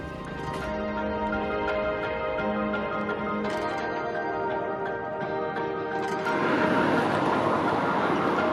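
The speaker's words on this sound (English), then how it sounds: "Traveling by night train is one of the cheapest and most comfortable options in Vietnam" Steady rumbling and rattling of a night train travelling through Vietnam, with a continuous broadband clatter that grows slightly louder and rougher toward the end.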